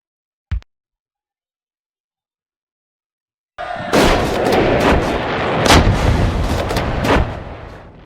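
Six-pounder artillery cannons of a Civil War battery fire in the wargame Brother Against Brother: a single sharp bang, a long silence, then a dense, loud barrage of overlapping booms and rumbling gunfire.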